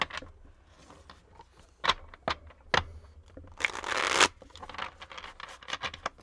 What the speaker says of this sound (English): That was my shuffling. Let me do another shuffle, actually.